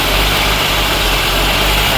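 A 1983 K-Car wagon with a five-speed, revived after thirty years of storage, idling steadily with a loud, even low rumble and no revving.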